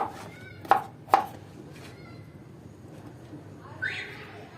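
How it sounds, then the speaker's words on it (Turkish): Vegetables are chopped for an oven-baked vegetable stew: two sharp, close knife strikes against a cutting board, followed by quieter kitchen sounds and a faint high squeak near the end. "Doğranma aşamalarını sadece göstereceğim."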